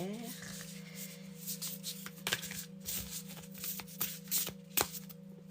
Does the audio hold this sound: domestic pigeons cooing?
no